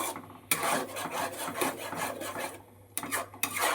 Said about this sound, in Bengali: এটাকে নেড়ে নেড়ে নেড়ে নেড়ে একদম শুকনো করে ফেলতে হবে